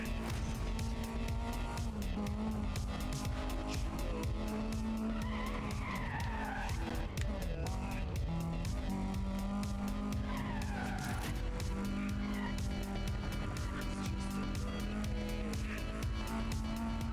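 Car handbrake skid in the Need For Speed Undercover video game: a long, continuous tire squeal with engine roar, heard loud and steady throughout, with no talking.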